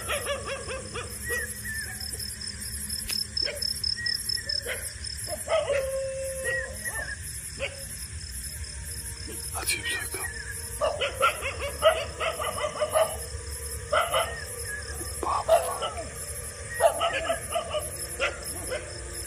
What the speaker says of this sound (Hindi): कुत्ते बहुत हो रहे हैं